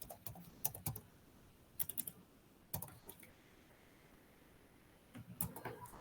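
Typing on a computer keyboard while writing HTML code for a form and table: quiet, scattered clusters of light key clicks with pauses between bursts, close and alone.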